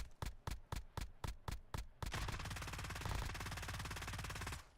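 Automatic gunfire in the video game Warzone, likely an LMG or assault rifle, starts as eight rapid evenly spaced shots, then merges into a dense sustained burst of fire lasting nearly three seconds.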